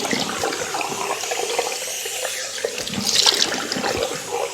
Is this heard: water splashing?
yes